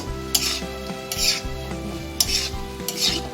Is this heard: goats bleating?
no